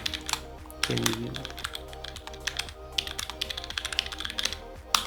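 Steady rapid typing on a computer keyboard at a desk, with dense clusters of close key clicks and taps continuing throughout over a faint background hum.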